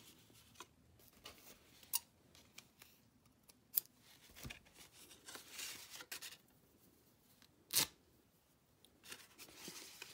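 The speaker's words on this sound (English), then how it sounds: "I gotta go get my other scissors again." Scissors snip paper while an accordion journal is being made, a few sharp, close cuts scattered among quiet rustling and handling noises, with no talking.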